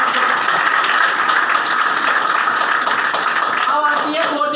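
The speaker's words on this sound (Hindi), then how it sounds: "तो एक बार इस पोस्ट के लिए जबरदस्त ताली" An indoor audience at a business presentation breaks into dense, sustained clapping, loud and continuous, with voices faintly mixed in near the end.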